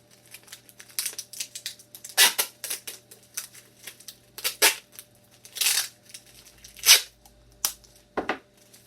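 Tape is ripped off the roll and wrapped tightly around homemade nunchucks, making a run of sharp tearing and crinkling bursts with short pauses between them, close and fairly quiet.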